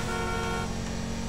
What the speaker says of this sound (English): Can you guys hear me honking at you?